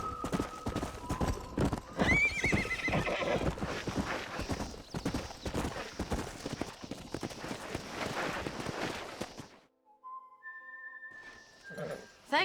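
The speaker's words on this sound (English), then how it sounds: "We got some fine horses." Horses in Red Dead Redemption 2 neigh and whinny over a dense run of clip-clop hooves for about nine seconds, loud and close, before the hoofbeats drop away into near silence broken by a few thin whistling tones.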